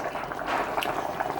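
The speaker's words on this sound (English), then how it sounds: "it's been boiling for about 10 minutes" Jamaican cow foot soup boiling steadily in a pot, a dense bubbling simmer with small pops, close and continuous, with no talk over it.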